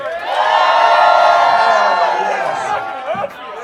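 A bar crowd of fans at a game-day gathering cheers, screams and whoops loudly in a sustained burst with shouting voices, tapering toward the end.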